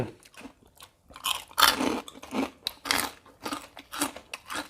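Loud, close crunching bites and chewing of papaya salad with crisp bitter gourd and pickled crab, in repeated bursts separated by brief pauses, with no talk.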